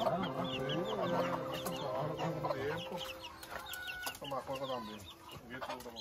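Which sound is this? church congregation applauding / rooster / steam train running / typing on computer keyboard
rooster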